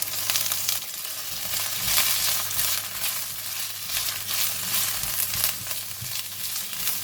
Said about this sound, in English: when the garlic is brown, I'm going to put in the kailan stem